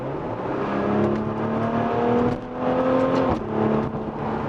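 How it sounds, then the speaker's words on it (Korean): Maserati Levante in sport mode gives a loud, steady exhaust drone with a deep low rumble and a rising engine tone, close and continuous with no talk. "이런 식으로 배기음이 달라지는데, 이건 분명히 6기통에서 날 수 있는 배기음이 아니에요"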